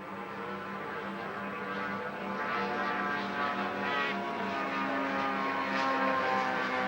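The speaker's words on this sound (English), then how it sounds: "Four engines for the Lancaster." Avro Lancaster four-engine propeller bomber droning steadily at an airfield, a continuous low engine hum that slowly grows louder over several seconds.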